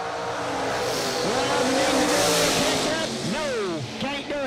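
Bracket drag racing with an 85 Mustang and an 85 Camaro at the strip: loud engine roar and revving fill the clip, with rising pitch sweeps near the end as the cars launch, under an announcer's voice.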